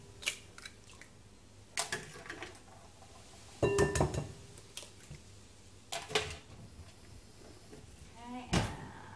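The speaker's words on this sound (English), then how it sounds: "Just crack 3 eggs into that." Three eggs cracked one by one into a big mixing bowl while making chocolate brownies, giving sharp knocks and clinks against the bowl spread apart by quiet gaps, close and moderately loud in a home kitchen.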